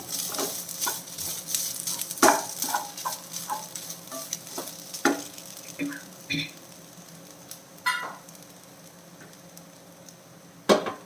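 Grated coconut being stirred into mashed ripe banana in a pan, giving soft scraping and clicking strokes at an irregular pace with faint sizzling underneath, fairly quiet and close.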